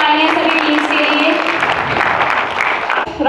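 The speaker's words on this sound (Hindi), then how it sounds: "जोरदार तालियां सभी टीम्स के लिए।" Steady, dense clapping from a crowd at a quiz round of a festival fills the whole stretch, loud and continuous, with a voice or two faintly mixed in before it thins at the very end.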